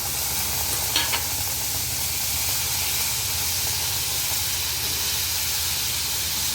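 Chopped tomatoes hit hot oil in a pan for onion-tomato chutney, giving a steady, broad hissing sizzle with a brief clatter of stirring near the start, continuing evenly without talk.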